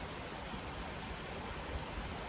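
Water flowing along a gully, a steady broadband rush that stays constant and fairly close with no talk over it, with a slight windy edge.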